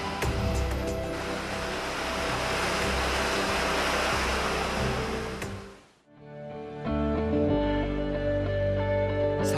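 Powerful river rushing through Kangding town at night, a loud steady broadband roar of flowing water that drops away briefly near the end before a lower rumble and tonal hum return.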